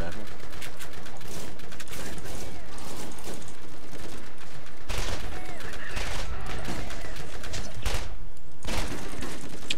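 Gunfire rattles in the Borderlands video game, a repeater pistol firing in short bursts of three among dense, loud, continuous battle noise with other weapons going off, while voices talk over it.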